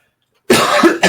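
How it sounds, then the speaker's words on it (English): A single short, harsh cough after half a second of silence, loud and close, broken into two or three quick bursts, with no talking. "Had a cough."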